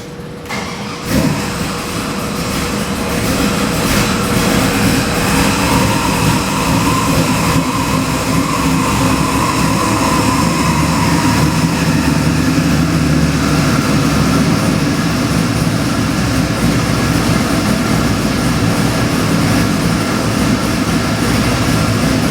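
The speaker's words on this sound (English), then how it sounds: "Has to be one of the LQ9 408 cubic inch engine packages. We're gonna fire this up and do a video." A GM LQ9-based 408 cubic inch LS crate engine rated around 575 horsepower fires up on a dyno and settles into a loud, steady, rumbling run that continues unbroken, close and dominant.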